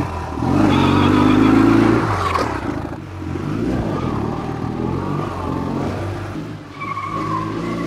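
A stunt motorcycle starts and revs hard, close and loud. A rising whine peaks early, then the engine settles into a rough, steady roar.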